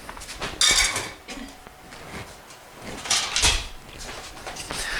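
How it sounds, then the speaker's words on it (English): Sweet potatoes with brown sugar, white sugar and cinnamon are mixed in a pot for a Thanksgiving side dish. A utensil knocks and scrapes against the pot in a few loud, close clunks with quieter stretches between, and someone talks throughout. "So we're just going to mix it all in together now"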